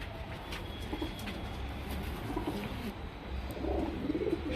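A female Sabja pigeon with a short beak coos softly in a low, repeated rolling murmur, with faint background chirps and no talking.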